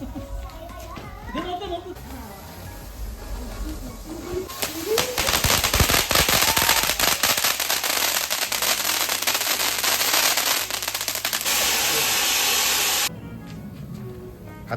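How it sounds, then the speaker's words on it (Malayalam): Firecrackers at a Diwali celebration fizz and crackle in a sustained, loud spray of bursts lasting several seconds, while children shout and talk around it before and after. "ഇനി നമ്മുടെ പടക്കം പൊട്ടിക്കലാണ് കേട്ടോ."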